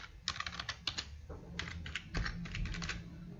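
A new password being typed on a computer keyboard: a quick, uneven run of crisp key clicks in two short bursts, close and clear, with no voices.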